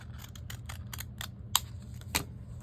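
Scissors cutting paper at a desk while journaling: a quick run of light, close snips, then two sharper clicks of the blades, over a low steady hum.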